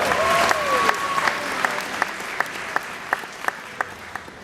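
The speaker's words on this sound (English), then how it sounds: "Let's hear a big round of applause for Echo." Applause from a spectator crowd at an outdoor bird-of-prey demonstration for Echo the hawk, starting as a fuller burst and thinning to a few isolated claps, with a brief whistle-like tone early on.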